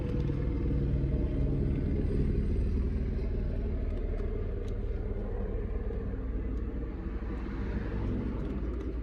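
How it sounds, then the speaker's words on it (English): A continuous low rumbling drone like a helicopter overhead, steady and fairly distant, with no talking. "this helicopter, it's either the same helicopter flying in circles."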